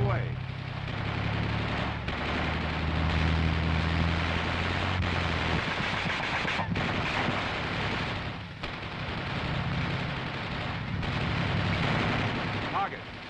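An M551 Sheridan armored reconnaissance assault vehicle fires its main gun, giving several heavy booming blasts with rumbling tails spread through the clip, while crew voices call out commands.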